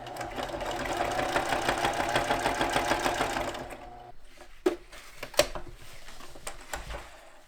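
Sewing machine running a steady rapid stitch through boat cockpit cushion fabric for about four seconds, then stopping, followed by a few sharp clicks and handling knocks as the material is shifted.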